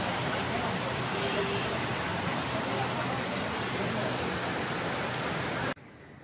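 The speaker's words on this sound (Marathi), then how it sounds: "पाऊस चालू झालाय बाहेर" Heavy rain falls outside at night, a dense, steady hiss that fills the scene for several seconds before cutting off abruptly near the end.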